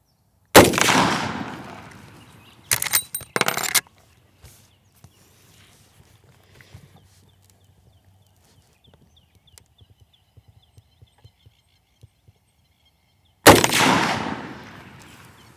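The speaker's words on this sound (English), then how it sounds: "Okay, firing." Rifle shots during hunting prep target shooting, likely from a Marlin .45-70 lever action: two sharp, loud reports with a brief burst between, separated by quiet stretches with faint shuffling and clicks.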